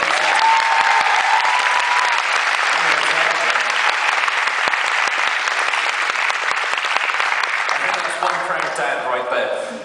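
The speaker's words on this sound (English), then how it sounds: "Can we get a round of applause for Wiley as well?" Sustained audience applause fills a Stargate panel at Wales Comic Con 2019, a dense, loud wash of clapping lasting about eight seconds before thinning out, with some cheering mixed in.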